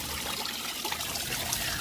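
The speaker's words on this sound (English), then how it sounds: "my overspill, it's active. The water's coming down like a waterfall." Water spills steadily over the spillway of a DIY balcony pond in a continuous, close waterfall rush that stays at an even level from start to finish.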